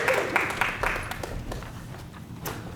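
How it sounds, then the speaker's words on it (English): Small workshop audience gives a quick, scattered round of applause at a Shakespeare festival session, a few loose claps fading out within seconds at moderate distance. "All right, give them a round of applause."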